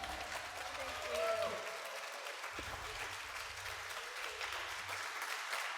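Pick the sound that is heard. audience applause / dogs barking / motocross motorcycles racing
audience applause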